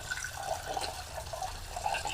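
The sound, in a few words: water rinsing a cooking pot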